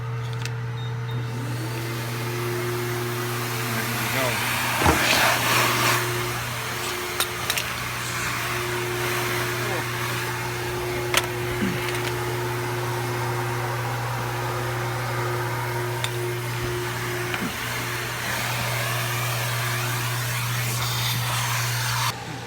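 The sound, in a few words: self car wash vacuum cleaner vacuuming a car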